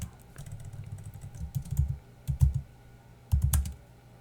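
Code is typed on a computer keyboard in short bursts of close, clattering keystrokes separated by brief pauses, with no talk.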